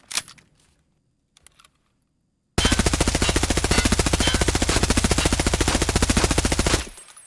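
An HK rifle fires in Escape from Tarkov: one long, loud, unbroken burst of rapid automatic shots after a brief quiet stretch, ending abruptly.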